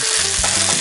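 Pheasant pieces fry in hot grease inside a Dutch oven, giving a loud, dense, steady sizzle and crackle with no talk over it.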